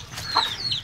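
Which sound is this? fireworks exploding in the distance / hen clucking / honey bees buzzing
hen clucking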